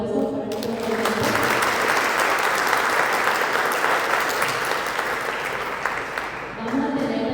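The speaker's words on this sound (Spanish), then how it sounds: "Fuerte los aplausos para nuestro ponente." Full, sustained audience applause for a speaker at a criminal law and criminology conference, loud and dense for several seconds before tapering near the end, with voices faintly underneath.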